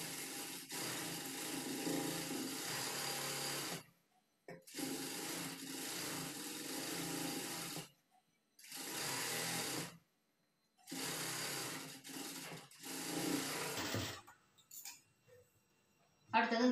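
A sewing machine runs a long stitch along folded blouse cloth in several bursts of steady whirring, each a few seconds long and separated by short silences.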